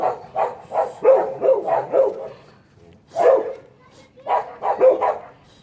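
Dogs bark close by in loud, rapid bursts: a run of about eight barks, a short pause, then another single bark and a second quick run.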